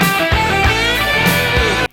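Dense, distorted electric guitar playing the next lick of the solo, with a rhythmic low pulse underneath and notes sustained loudly before cutting off abruptly at the end.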